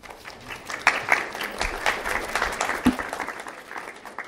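An audience at a university forum claps in a dense, even round of applause that carries at steady volume through the whole stretch.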